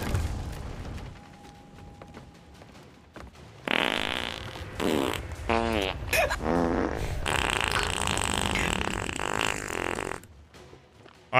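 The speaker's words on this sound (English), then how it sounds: "Five fart noises." A person makes a string of mouth-made fart noises during a Sea of Thieves gaming livestream: repeated buzzy, sputtering bursts of varying length, loud and close, with short gaps and no clear talk between them.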